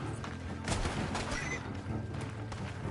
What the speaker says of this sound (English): My horse ran back into the gunfire.